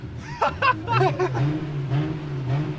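A car engine drones and revs with a steady low hum, while people talk briefly over it near the start.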